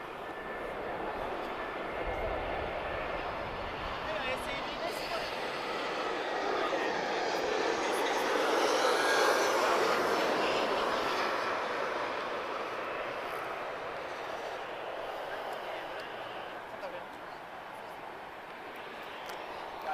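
An Iberia airliner, flight IB3102 from Madrid, passes at Lisbon Airport. Its broad engine roar builds gradually, peaks around the midpoint, then slowly fades into a steady distant rumble.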